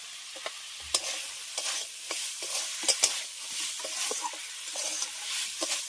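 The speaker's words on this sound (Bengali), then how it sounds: "ছোলাটাকে খুব ভালো করে কষিয়ে নিয়েছি" Chickpeas with spices are stir-fried in a pan, a soft sizzle broken by repeated scraping and tapping strokes of a spatula at an uneven rhythm, close up and without talk.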